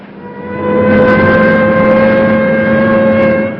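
A race car engine roars at an auto racing track in a 1949 film. A loud, steady droning whine swells in, holds for several seconds and then fades away, with no talk.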